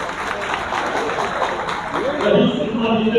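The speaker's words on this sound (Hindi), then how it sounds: "जोरदार तालियों से स्वागत।" Loud applause from a crowd at a BSP political rally in Bilhaur, Kanpur, a dense continuous wash of clapping that swells toward the end, with a voice briefly audible over it.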